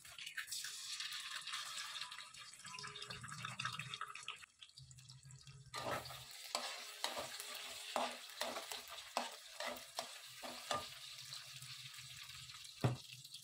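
Eggs fry in a pan with cumin and shahi jeera, a quiet sizzle broken by a pause, then a run of soft taps and scrapes from stirring over continued frying.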